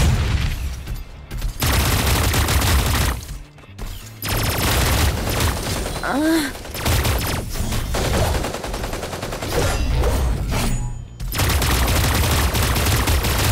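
Video game gunfire crackles in dense, continuous bursts of shots and booms, loud and close, with brief pauses between volleys and a few whistling effects mixed in.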